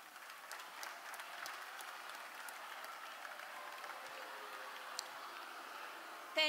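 Scattered applause from a crowd of middle and high school students at a youth opioid summit in Baltimore, a steady, moderately distant patter of clapping that continues throughout without talk.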